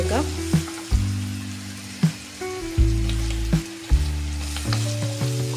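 Chopped tomatoes hit hot oil in a pan for a Kerala sardine curry, giving a continuous loud sizzle broken by repeated sharp clanks and scrapes as the mixture is stirred.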